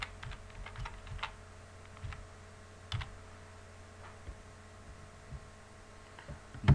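JavaScript code is typed on a computer keyboard in irregular bursts of crisp, close key clicks over a low electrical hum, with no voices.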